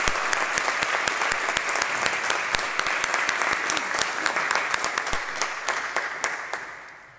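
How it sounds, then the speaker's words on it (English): A graduation awards ceremony audience applauds in a full, steady burst of many hands, with a few sharper individual claps standing out and the sound tapering slightly toward the close. "To everyone now, I would ask you to applaud and celebrate all your endeavour and outstanding"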